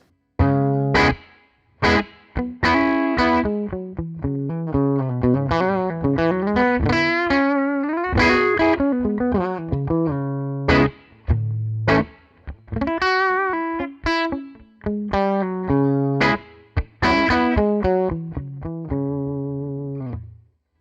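Distorted electric guitar riff through a '59 Bassman LTD amp simulator with room mics blended in, giving a roomy, ambient sheen; rhythmic chords and single notes with brief pauses, playing alone.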